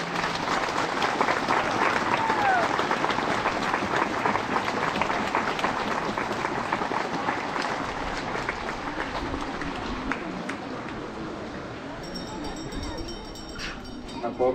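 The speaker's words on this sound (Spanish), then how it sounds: "Un aplauso fuerte a nuestra Madre Santísima." Crowd applauding steadily at an outdoor celebration of the Virgin of the Assumption in Atzala, Guerrero, Mexico, with dense clapping throughout and voices mixed in.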